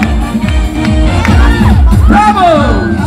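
A festival crowd at the 2022 Chimaek Festival cheers and whoops loudly, with rising shouts and a busy babble of voices close by; talk is mixed in.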